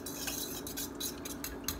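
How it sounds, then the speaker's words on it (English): An egg being stirred into milk for a batter: quiet, rhythmic clinking and scraping of a utensil against a bowl, repeating in quick strokes. "that egg stirred into the milk"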